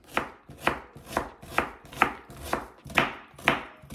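Onion diced with a knife on a cutting board for a zucchini jar salad, eight steady, evenly spaced chops, close and crisp, with no voices.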